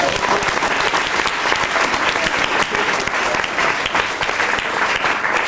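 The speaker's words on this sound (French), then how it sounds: "On l'applaudit, s'il vous plaît, elle a tout changé." Audience applause at a live comedy show, dense and steady clapping from a full crowd that stays loud and even throughout.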